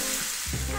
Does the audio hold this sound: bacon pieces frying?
yes